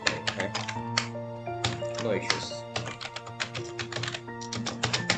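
Rapid, uneven clicking of computer keyboard keys while entering Python code, close and continuous with short pauses, under someone talking throughout.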